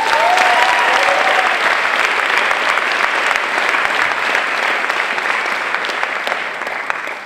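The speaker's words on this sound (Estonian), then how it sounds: "Kenile suur aplaus!" A gala premiere audience gives Ken loud, dense applause, a steady roar of many hands clapping that carries on for several seconds before easing slightly at the end.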